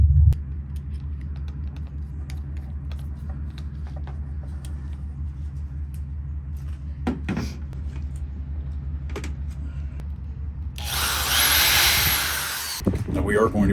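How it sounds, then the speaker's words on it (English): A power drill bores through a wooden Smitty sled for winter camping, starting with a loud grinding burst of about two seconds that stops abruptly after a quieter stretch of low hum and scattered clicks. "Now we are going to be drilling these all the way through."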